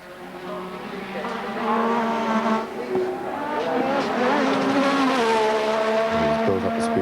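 A Formula 1 race car at the 1986 Australian Grand Prix screams past at speed, its high engine note climbing and sweeping in pitch over several seconds, loud and sustained with a shift near the end.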